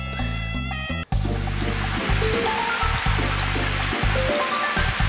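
The Spirit Falls waterfall in Smeria in the Arc the Lad video game rushes as a constant broad hiss beneath loud looping game music.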